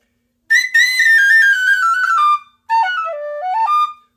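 A bright, loud tin whistle plays a descending phrase, pauses briefly, then plays a second phrase with stepping notes, close and clear.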